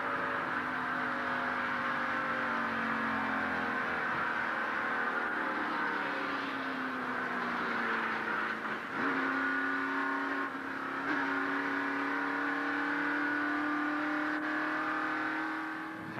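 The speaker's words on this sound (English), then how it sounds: "here is a real-time replay of the crash from inside Jeff Bodine's car" Onboard a stock car racing at Talladega during the 1989 Winston 500 as a crash unfolds, a loud sustained engine drone holding a steady high pitch, dipping briefly and climbing again, with no voices.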